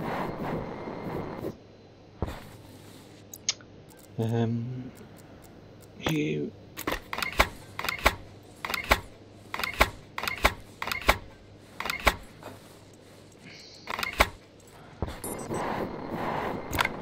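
Sharp mechanical clicks and ratchet-like taps from a wrench tool in the survival game Stationeers, set on a frozen Europa station, come in irregular bursts over a low steady hum, fairly close and moderately loud.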